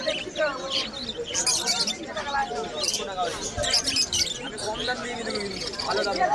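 Budgerigars and other exotic birds at the Krishnagar bird market in Nadia fill the air with dense, overlapping chirps and warbling chatter, continuous and close, with someone talking over them.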